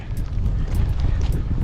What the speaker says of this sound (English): And that wind is something, man. Starting to really pick up too.